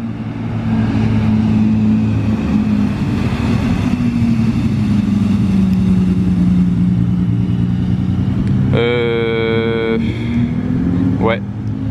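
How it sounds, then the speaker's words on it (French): An old Ferrari California passes on a Monaco street, its engine a steady mid-pitched drone that rises and fades as it goes by, with a short high horn-like tone near the end and people talking over it. "qu'est-ce que j'entends arriver là? Oh, regardez l'ancienne Ferrari là. C'est quoi ça déjà, une California?"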